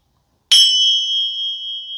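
A single bright metallic strike of small cymbals in a Reiki healing session rings out and sustains with a clear, shimmering tone that slowly fades, heard alone.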